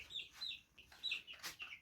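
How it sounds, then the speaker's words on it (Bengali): Tiger chicken chicks about two weeks old in a netted raised pen give soft, high cheeping peeps in short bursts, faint and scattered with brief gaps between. "আমি এখানে কিছু টাইগার মুরগি এনেছি। টাইগার মুরগির বাচ্চা।"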